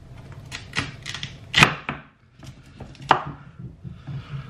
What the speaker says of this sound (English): I go right down the middle, and be careful when you cut these potatoes